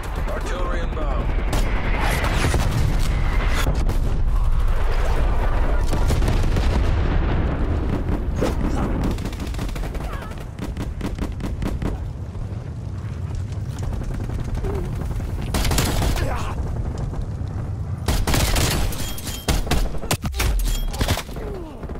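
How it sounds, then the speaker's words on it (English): Incoming artillery shells burst in a military video game, a dense, loud barrage of booms and crackling blasts filling the scene, with heavy impacts clustered near the middle and end and a synthetic voice speaking over the fire. "Artillery inbound."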